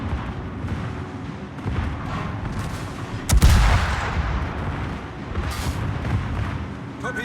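Secondary batteries on a warship in World of Warships fire amid ongoing naval combat, with one loud, sharp blast standing out over a steady low rumble of battle noise.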